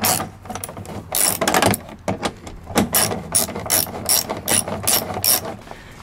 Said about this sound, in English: Now let's put in this 10 mil screw.